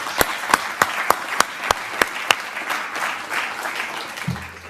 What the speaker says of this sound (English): a round of applause to the team